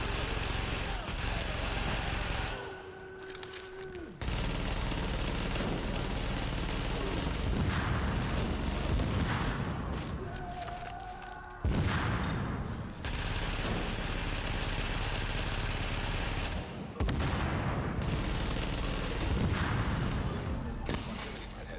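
Sustained gunfire from The Division video game, loud and dense throughout with bursts of shots, brief lulls near 3, 12 and 17 seconds, and rumbling explosive texture underneath.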